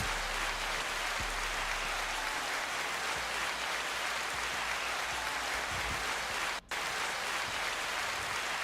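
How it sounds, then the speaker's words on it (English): A steady wash of dense applause played on a live FM radio broadcast, continuous and even in loudness, with a brief dropout near the end. "Double claps."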